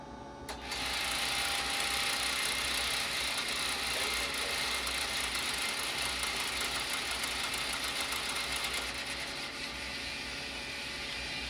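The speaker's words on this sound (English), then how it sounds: "The reason for that buzzing, and hopefully it isn't too loud, is they are synchros." Synchro-driven angle position indicators on an avionics panel buzz continuously and fairly loudly, a steady electrical hum with a fine rattling texture that starts abruptly and holds for the whole stretch, with no talking.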